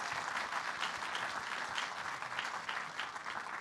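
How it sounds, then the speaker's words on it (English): A lecture audience applauds a guest speaker at the close of a scientific talk, a steady dense clapping that fills the room evenly for a few seconds without voices. "We can applaud her again."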